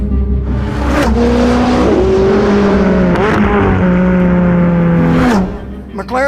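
A 2016 McLaren 570S, roughly 570 horsepower, accelerates hard with a loud, close engine note that climbs through several gears, its pitch rising and dropping at each shift before it fades near the end.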